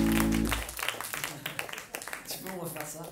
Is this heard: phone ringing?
no